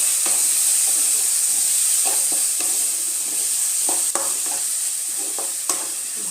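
Spice paste sautéing with a splash of water in a pan for Bengali raw jackfruit and prawn curry makes a loud, bright, steady hiss and sizzle, with a few light clicks of stirring.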